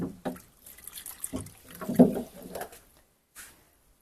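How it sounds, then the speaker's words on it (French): Water is poured into a cooking pot while potatoes and meat are sautéed, coming as short, close splashy gurgles in bursts separated by quiet gaps. "je vais ajouter de l'eau."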